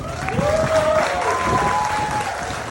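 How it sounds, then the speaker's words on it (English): A crowd at a youth livestock beef breeding show applauds the seniors, a steady burst of clapping lasting a few seconds while an announcer's voice carries over it. "these seniors in here a big round of applause"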